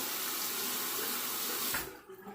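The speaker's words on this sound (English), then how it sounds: "Let me go ahead and drain the water in here and wet my razor." Water runs from a bathroom sink faucet onto a razor, a loud steady rush that cuts off abruptly near the end, leaving a quieter gurgle as the sink drains.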